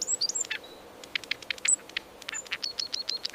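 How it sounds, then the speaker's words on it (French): A small bird chirping in quick, sharp bursts, bright high tweets and rapid repeated notes close to the listener against a quiet background. "C'était un piaillement d'oiseau."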